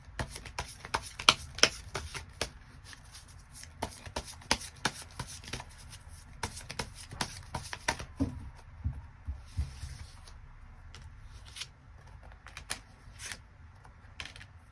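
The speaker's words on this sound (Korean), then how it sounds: "카드 뽑아보도록 하겠습니다." Tarot cards being shuffled and drawn, a steady patter of crisp card flicks and riffles close by, with quieter handling between bursts and no talking.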